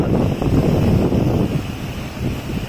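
Sea waves break on the shore at Diu, a loud continuous rushing roar mixed with wind buffeting the microphone, with no talking.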